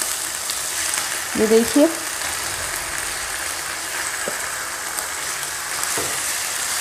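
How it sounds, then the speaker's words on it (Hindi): Chicken pieces in a hot pan with garlic ginger paste and cumin, giving a steady soft sizzle with a few louder pops early on, while a voice speaks briefly over it. "1 चम्मच लहसुन अदरक का पेस्ट, और बस यहीं पे अपना चिकन डाल देंगे।"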